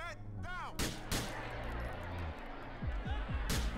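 Gunfire in GTA: The Ballad of Gay Tony: several sharp shots crack out amid game noise, a few spaced bursts near the start and a quicker cluster near the end, with a voice talking underneath.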